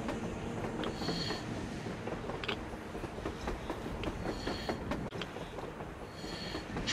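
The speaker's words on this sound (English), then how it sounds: "A train! A damn train on the surface!" A train passes on the surface in the video game Metro Exodus, heard as a steady low rumble with scattered metallic clanks and rattles, fairly quiet and continuous throughout.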